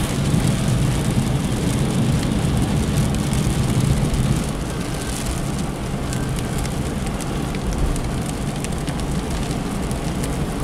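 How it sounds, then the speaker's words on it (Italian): Heavy downpour drums steadily on a moving car during a driving rainstorm, a dense continuous roar with low rumbling road and engine noise underneath, loud and unbroken. "Comunque è veramente bello quando piove."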